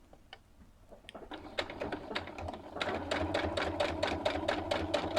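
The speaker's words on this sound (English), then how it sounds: "we sew straight again, and then backwards, and then forward" A sewing machine stitches a blouse, starting with a few clicks before settling into a rapid, steady, close-up run of needle strokes with a mechanical hum underneath.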